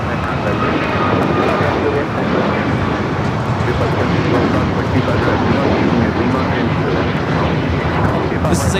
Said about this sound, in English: This is a brand new MAX 9 taking off to Houston Intercontinental United 2086